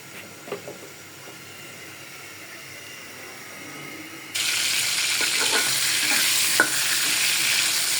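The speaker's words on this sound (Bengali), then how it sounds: "মাছটা দিয়ে দিলাম আগে" Fish hits hot oil in a home kitchen pan and sizzles, first a soft steady crackle, then a sudden loud, bright frying hiss with occasional pops and stirring clinks.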